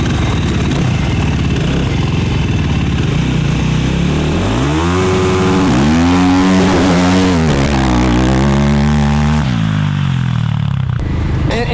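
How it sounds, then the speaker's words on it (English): An ATV engine revs at wide open throttle, a loud, sustained raspy drone whose pitch climbs and holds high through the middle before dropping away near the end, with no talk over it. "I'm gonna show you wide open throttle, okay? Wide open throttle until I get there."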